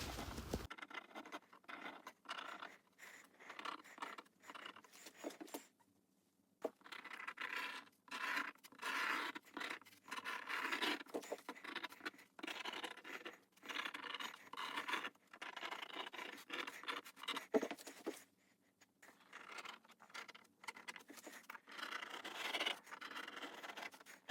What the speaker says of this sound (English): I'm just going in with a bit of pen as well, just to finalise the marks.